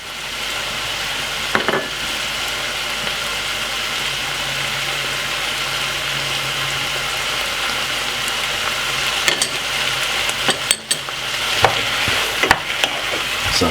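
Butter sizzles in a hot pan for a steady, continuous frying hiss, with occasional faint clicks and light kitchen clatter mixed in.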